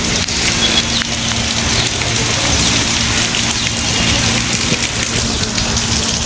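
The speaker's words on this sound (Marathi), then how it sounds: "पूर्ण पावसामध्ये मी भिजून गेलोय" Heavy monsoon rain pours down beside roadside snack and ice-cream stalls near Parli's Jijamata garden, a loud, even hiss of drops beating on surfaces, steady throughout with no voices.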